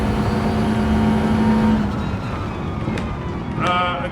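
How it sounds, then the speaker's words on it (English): A car engine in Gran Turismo 7 drones steadily with a strong harmonic whine, shifting pitch midway, then briefly revving higher near the end. "Great sound in the car."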